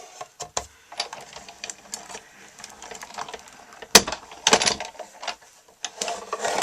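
A die-cutting machine feeds paper scalloped and layering circle shapes through its rollers, giving a rolling mechanical clatter with sharp clicks and a loud burst near the end.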